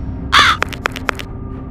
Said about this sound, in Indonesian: Pergi burung sialan, pergi.